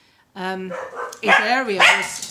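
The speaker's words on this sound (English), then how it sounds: "Sorry about the dogs." Dogs barking indoors in the background, a few sharp barks and yips rising over someone talking close to the microphone.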